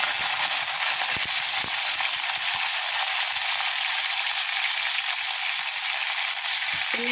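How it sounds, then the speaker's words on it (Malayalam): Mustard and fenugreek seeds splutter in hot oil while a Kerala-style fish curry is started: a steady, loud, close crackling hiss with dense rapid pops throughout and no talking. "ഉലുവായും കടുകും ഇവിടെ പൊട്ടി വന്നിട്ടുണ്ട്"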